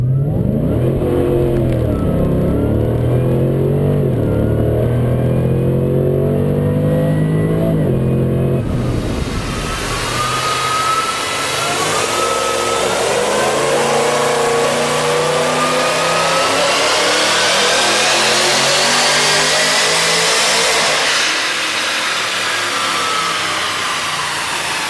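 A Holden VE Commodore GTS with an LS3 V8 and automatic gearbox, tuned to 589 rwhp, revs and accelerates hard, its loud engine note climbing through the gears with no talk over it.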